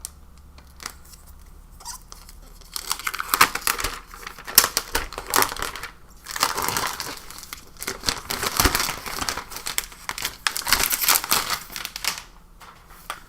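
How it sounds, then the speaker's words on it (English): Thin plastic film being peeled and pulled off a new 13.5-inch Microsoft Surface Laptop, giving a run of close crinkling and crackling bursts that come and go over several seconds, with no talking. "Go ahead and take this plastic off."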